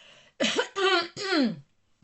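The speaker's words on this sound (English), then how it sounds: "I know it could be annoying listening to me trying to clear my throat" A woman clears her throat in three rough, raspy bursts at close range, with a faint breath at the end.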